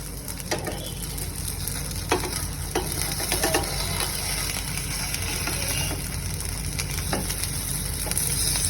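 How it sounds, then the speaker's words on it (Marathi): Beetroot cutlets shallow-fry in oil in a pan over medium-low heat, giving a steady, dense sizzle throughout, with a few soft scrapes and taps from turning them, close and fairly loud. "ह्याला दोन्ही बाजूने मी चांगलं शॅलो फ्राय करून घेणार आहे"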